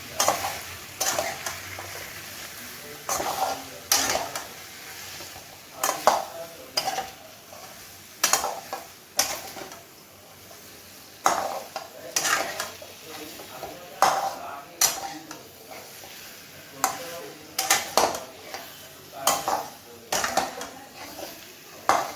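Spiced potatoes with chilli powder being stirred in a pan for a vegetarian dum aloo, a spoon scraping in repeated close strokes over a steady low sizzle, no talking.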